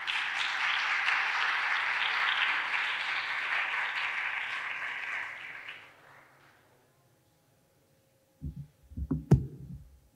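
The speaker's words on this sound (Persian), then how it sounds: "میخواستم که با تشویقتون رو دعوت کنم" Audience applause welcoming a speaker at a neuroscience talk: a steady wash of clapping that fades out into silence, followed by a few low thumps and knocks nearby.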